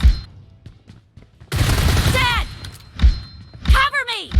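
Groza rifle fire in PUBG Mobile: a short rapid burst and a few separate heavy shots with booming thuds, close and loud amid quieter gaps.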